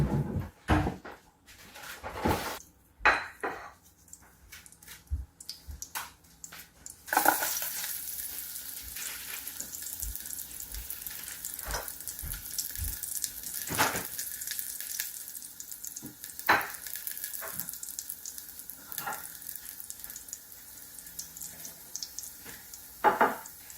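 Pig feet frying in a little oil in a pot, a faint steady sizzle that rises after a few clanks and stirring knocks, with occasional utensil taps throughout.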